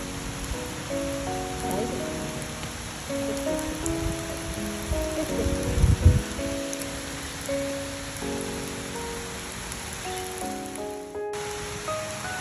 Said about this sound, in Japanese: すごいですね、雨が。